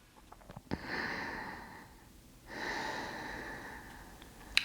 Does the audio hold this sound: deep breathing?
yes